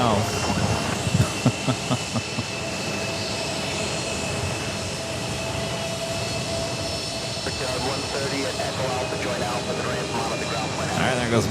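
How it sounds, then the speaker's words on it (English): An Airbus A320 jet departs JFK airport bound for Raleigh-Durham, its engine roar a steady, broad rumble that holds at constant loudness throughout, with people talking nearby over it. "there goes my dad's plane off to Raleigh, Durham. This is the Airbus A320 that brought him in from Detroit."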